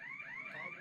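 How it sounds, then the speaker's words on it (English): A car alarm wails in a brief, rising and falling electronic tone, faint and somewhat distant, heard alone. "It's a car alarm."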